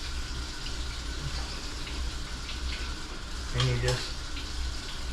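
Tap water running steadily while someone washes their face, a continuous close rush of water with a brief splash and a few quiet spoken words partway through.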